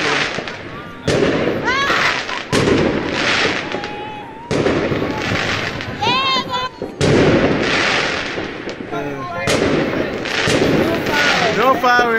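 Repeated fireworks bursts and crackling go off in quick succession in Cape Town, some with whistling sweeps, loud and sustained throughout.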